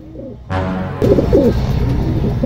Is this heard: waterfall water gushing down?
no